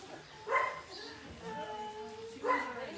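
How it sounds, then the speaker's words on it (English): Dogs guarding belongings at an animal clinic in Tzununa bark twice, a short sharp pair of woofs spaced about two seconds apart, fairly close, with a faint tonal whine between them. "I appreciate that the dogs are guarding my stuff."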